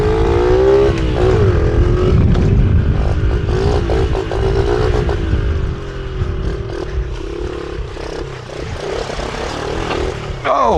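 A motorcycle engine revs loud and close, its pitch rising and falling in uneven surges, with a steady rumble beneath.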